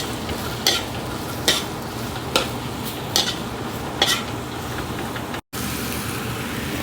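Onion and ginger sauté in a hot pan for Ilocano papaitan, with a steady sizzle beneath five evenly spaced scraping stirs of a utensil against the pan, close and moderately loud.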